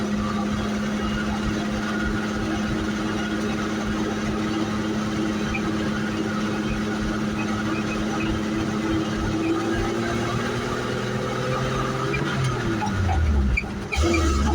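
A 1978 Dodge short box truck with a bad rear tire drives in first gear, its engine a steady, loud low drone that rises slightly near the end, with a clunk as it slows.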